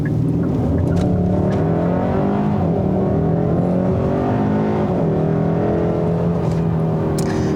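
A 2021 Hyundai Sonata N-Line sport sedan with a turbocharged engine accelerates hard, its engine note droning and climbing steadily through the revs, loud and close from the cabin with no talk over it.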